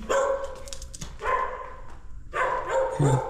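A large dog barks in a few loud, close bursts with brief pauses between them, heard at a cemetery during Holy Thursday.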